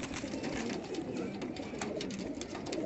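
English Saddle fancy pigeons coo and murmur in a loft, a continuous low, warbling chorus of several birds close by.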